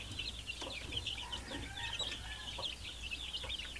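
Chicks from native and Shamo crosses, along with Peruvian gamefowl crosses, peep and cluck steadily at close range, their high chirps overlapping without a break.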